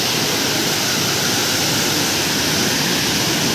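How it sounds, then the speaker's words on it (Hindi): A waterfall at Machakandana roars as a steady, dense wash of falling water, loud and continuous throughout with no voices over it. "क्या ही वाटरफॉल"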